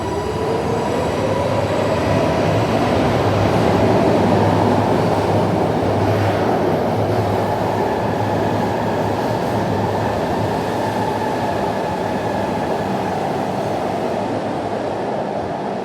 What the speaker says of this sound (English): Alright, second train into Patco.